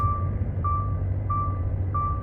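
A reversing truck at a cramped factory yard in Spain gives steady, evenly spaced electronic beeps, about three across the clip, over a constant low diesel engine rumble heard from the cab.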